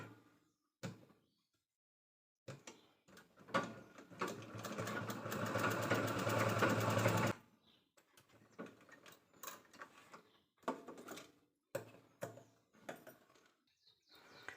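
A sewing machine stitches blouse border fabric in a steady whirring run of about three seconds, framed by scattered clicks and handling knocks before and after.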